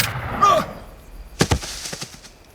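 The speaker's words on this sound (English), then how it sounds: "Why did you shoot him?" A single sharp gunshot fired close by in a horror radio drama, followed by a quick burst of lighter cracks and knocks that die away, after a brief voice at the start.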